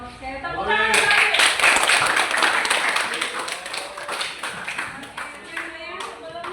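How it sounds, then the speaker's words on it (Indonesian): A classroom group claps together, a dense and steady burst of many hands that starts after a brief quiet moment and continues at a fairly even level to the end. "Oke, tepuk tangan lagi."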